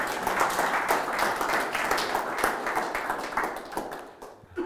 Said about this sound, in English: Go ahead, I'll take the clapping.